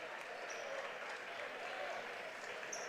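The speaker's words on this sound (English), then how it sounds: "gets a round of applause from all in attendance" A basketball crowd in a gym applauds an injured player helped to his feet, a steady wash of distant clapping with voices mixed in.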